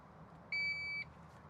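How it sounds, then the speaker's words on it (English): Lexus seat memory set button giving a single electronic beep, a clear steady tone lasting about half a second, near and alone over quiet cabin background. "makes a beep noise"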